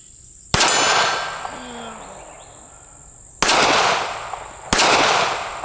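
Three sharp shots from a Smith and Wesson Bodyguard 380 2.0 micro pistol, each followed by a ringing metallic clang from a steel target, spaced unevenly with long gaps between the first and the last two, close and loud.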